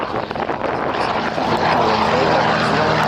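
Propeller engines of a WW2 C-47 transport aircraft drone loudly during a flight display in Orléans, a dense, steady roar that swells and holds as the plane passes near.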